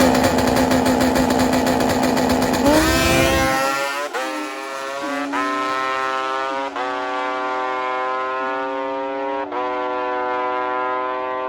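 A drag race between an old-school fast-by-gas Kawasaki KZ four-cylinder and a two-stroke motorcycle, loud engines screaming up through rapid gear shifts with rising then dropping tones as the bikes pull away down the strip.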